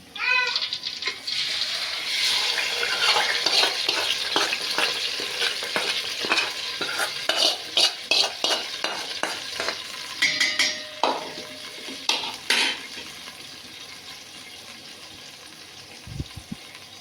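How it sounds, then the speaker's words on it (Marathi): Marinated chicken for biryani sizzles loudly in hot oil in a cooking pot, with steady frying hiss and repeated scraping and clinking stirs that thin out toward the end. "आणि मग आता टाकूया हे पूर्ण मॅरिनेशन केलेलं चिकन."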